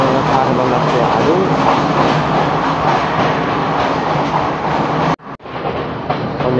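A train at Maradana railway station in Sri Lanka gives off a loud, continuous roar and rumble heard up close. Near the end the sound cuts out abruptly for a moment, then resumes.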